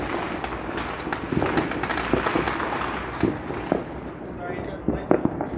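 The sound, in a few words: New Year's Eve fireworks exploding in Tirana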